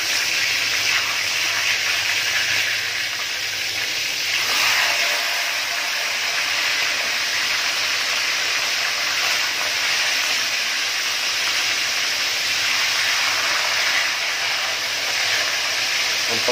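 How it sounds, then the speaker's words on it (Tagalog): A steady, loud sizzle of a salmon head frying in hot oil, a continuous hiss that barely changes throughout. "iprito ang ulo ng salmon"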